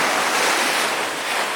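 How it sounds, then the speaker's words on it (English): An ocean swell rolls in at Mermaid Grotto, a broad, steady wash of surf that fills the short span, loud and close, with wind rushing across the microphone. "That was more of a swell wave."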